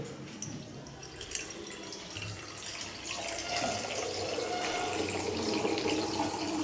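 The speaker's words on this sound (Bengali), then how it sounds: "যথেষ্ট বেশ এটাকে জল দিয়ে গুলে আমি এটা দ্রবণ তৈরি করব" Water poured into copper sulphate crystals to dissolve them into a solution, a close, continuous trickling and splashing that grows slightly fuller partway through, with no talking.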